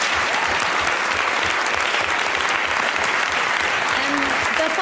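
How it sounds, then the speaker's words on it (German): A studio audience on a German talk show gives loud, dense, continuous applause at close range, a steady roar of clapping with crowd noise and voices blended in. "Einen warmen Applaus für unsere Assistentin heute Abend, die bezaubernde Ines!"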